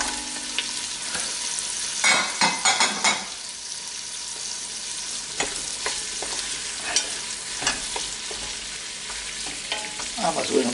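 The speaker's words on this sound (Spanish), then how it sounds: "vamos a que termine el sofrito. Vamos a echarle también los pimientos." Sofrito with peppers frying in a pan for a lentil stew, a steady close sizzle broken by louder crackling bursts and occasional stirring scrapes, with no voices.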